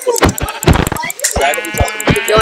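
Sheep in the video game Minecraft bleat loudly several times in quick succession, close and clear, with game sound effects around them.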